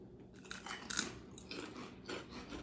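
Close, faint crunching bites and chewing of barbecue potato chips, several crisp snaps in an uneven rhythm with no talk.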